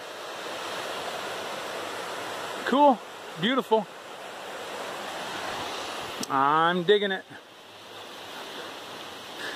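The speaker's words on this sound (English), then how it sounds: "Oh yeah, I'm gonna say this is Jefferson Brook." Jefferson Brook, a mountain stream by small waterfalls near Moosilauke, New Hampshire, rushes in a steady broadband wash throughout, with brief spoken remarks from a nearby man partway through.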